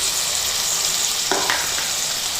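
Chopped tomatoes and green chilies hit a hot pan and fry with a loud, steady sizzle, broken by a brief sharper crackle partway through.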